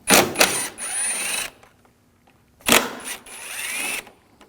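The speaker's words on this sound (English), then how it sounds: "Now we're going to take these screws out, use a T30 socket." A T30 socket ratchet works loose the cooling fan screws on a 2006-2009 Audi 4.2L V8, giving two loud, close bursts of rapid clicking and whirring, each about 1.5 seconds long, separated by a quiet pause.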